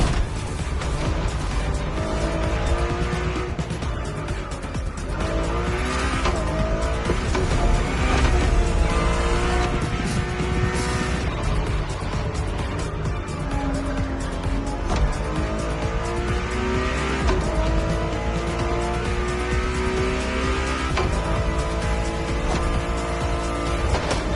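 Engine of a road-legal Ferrari hypercar in The Crew Motorfest racing game, a loud, continuous high-revving roar with rising and falling gear pitches and tire squeal, steady throughout with no talk.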